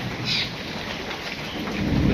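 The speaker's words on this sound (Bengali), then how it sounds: "এখনো গুড়ি গুড়ি বৃষ্টি হইতেছে" Light drizzling rain falls over a rural village, a steady soft patter and hiss running throughout with a low rumble near the end and no voices.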